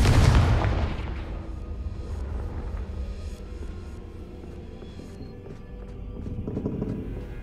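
A Confringo fire spell from the game Hogwarts Legacy bursts with a loud, deep explosive boom at the start, then fades into a rumbling tail and a swelling low surge near the end.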